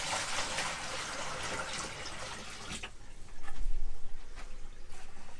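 Water gushes and splashes as it is poured into the fresh water tank of a NuCamp 400 RV. The pour is brighter and louder at first, then turns to a deeper, fuller splashing.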